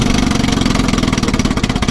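A 1957 Sea King 5HP outboard motor, newly revived after sitting for years, idles low and slow in a steady, loud pulsing chug close at hand.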